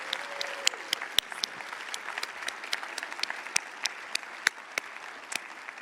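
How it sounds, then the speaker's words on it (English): Steady applause from an audience recognizing mothers, grandmothers and mother figures at a gathering, a dense continuous patter of many hands with a few sharper individual claps standing out. "please put your hands together and help me recognize the moms, the grandmas, and the people who have stepped into that mom role"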